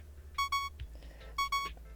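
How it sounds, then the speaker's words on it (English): A video game's low-health warning sounds as two pairs of short electronic beeps, bright and tonal, repeating in a steady warning pattern over faint background noise. "Is that why there's a beeping sound?"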